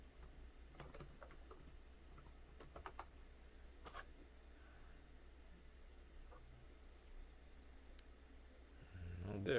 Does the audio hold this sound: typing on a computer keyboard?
yes